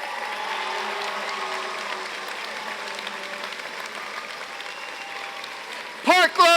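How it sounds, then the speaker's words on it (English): An audience at a school district convocation applauds a high school, broad steady clapping under talk and voices, easing off before a sudden loud burst near the end. "Give them a round of applause."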